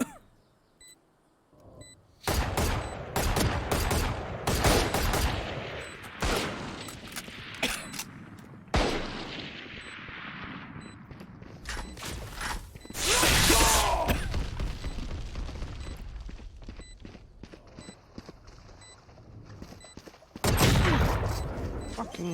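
Gunfire in a Valorant round after the spike is planted: loud shotgun blasts come in clustered bursts near the start, middle and end, with quieter stretches of game noise between them.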